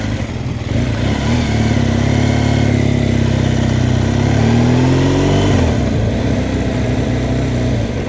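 An old truck drives past on a small village street, its engine a loud, steady mid-pitched drone with a slowly shifting tone that fills the whole passage before falling away near the end.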